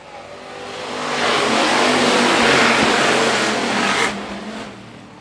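Hobby stock race cars roar past on a dirt raceway, the engine noise building to a loud, sustained rush of several cars driving by up close before easing away as they pull off.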